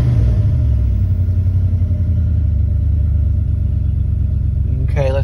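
A 1994 Dodge Ram with the 5.2 engine runs steadily with a slight pop, a loud continuous low rumble heard up close, with a brief higher sound near the end.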